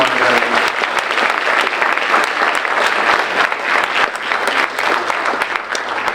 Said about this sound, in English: Can I have a hand of applause for our first row of honorary